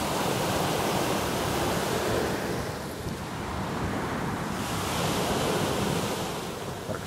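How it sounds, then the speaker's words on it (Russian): Morning sea waves break on the shore in a continuous loud wash of surf, swelling and easing slightly, with some wind noise against the microphone and no voices. "Так шумит утреннее море."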